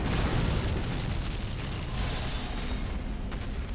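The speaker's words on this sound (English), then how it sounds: "Is that going to be an explosion?" Booming explosion during a Dark Souls III boss fight, a dense, sustained rumbling roar that stays loud and broad for several seconds with no break.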